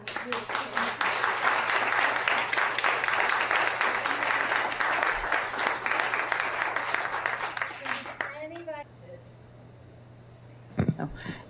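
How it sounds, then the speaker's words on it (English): Audience applause at a panel discussion, a sustained round of many hands clapping for about eight seconds before fading out into a quiet room with a brief voice near the end. "we need to do one big round of applause that we've gotten through"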